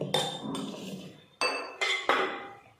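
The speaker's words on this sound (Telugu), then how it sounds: "ఇదిగోండి, ఇడ్లీ ప్లేట్ తీసుకున్నాను." A metal idli plate clinks against other steel vessels in a home kitchen, with several sharp ringing knocks spaced apart and short resonant tails between them.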